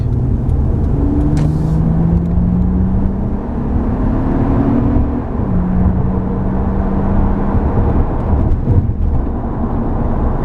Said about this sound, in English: Let's do an acceleration right quick.